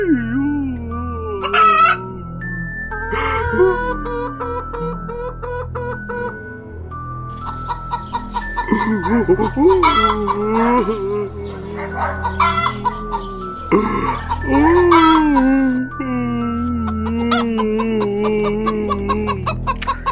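A voice playing a duck character imitates a chicken, with repeated clucking bursts and strained crowing calls, loud and close, broken by short pauses and squeaky interjections.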